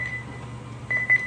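A Nissan GTR race car's electronics beep during wiring work: a steady high electronic tone, then a few repeated short beeps near the end, with a low hum underneath and no talk.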